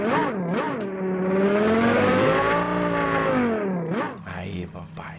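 A Ford Mustang of about 730 horsepower drifting in the Drive Zone Online racing game, its engine droning loud and steady with rising and falling pitch as it revs, then dropping away near the end.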